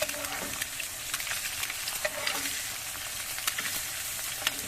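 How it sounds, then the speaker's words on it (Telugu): Sliced boiled eggs frying in a pan as the slices are turned, a loud continuous sizzle punctuated by sharp clicks and scrapes of the spatula, close and alone. "ఆరు గుడ్ల బిల్లలను మనం ఇదే విధంగా తిప్పుకోవాలి"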